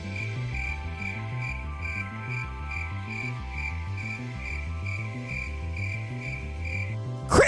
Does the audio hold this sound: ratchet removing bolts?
no